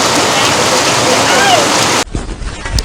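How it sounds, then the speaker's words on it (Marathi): Heavy rain pours down in a constant, loud, dense hiss for about two seconds, then cuts abruptly to a quieter background with a few soft thumps. "हे बघा, पाऊस सुरू झाला इथे"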